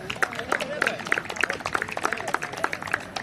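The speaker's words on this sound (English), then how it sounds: "Big round of applause" An audience at a Rottweiler dog show ring in Panchkula claps, a scattered mid-distance patter of hands lasting a few seconds, with voices speaking over it.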